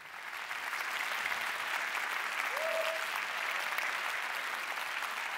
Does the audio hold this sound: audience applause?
yes